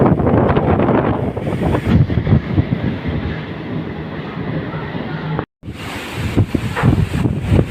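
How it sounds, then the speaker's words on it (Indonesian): Strong wind at sea during a ferry crossing buffets the microphone in loud, gusting rumbles, with the sea's wash underneath and a brief drop-out midway. "di sini angin kuat sekali"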